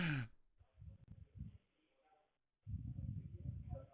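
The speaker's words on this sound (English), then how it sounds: "it's still the guy breathing in the phone" A scam caller breathes heavily over a phone line: faint, muffled breaths and snorts in uneven bursts, with a short pause before a longer, steadier stretch of breathing, thin and distant in tone.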